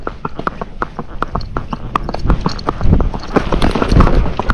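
Fox Trotter horse racking along a road under a rider, with quick, even four-beat hoof clops on hard pavement, loud and close with light wind noise, no talk.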